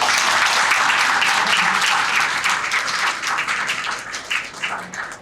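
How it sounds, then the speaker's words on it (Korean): A crowd of young people applauds loudly at a political visit in Daegu, with dense, close clapping at full strength at first, then thinning out and fading toward the end. "저런 박수 좀 쳐주세요."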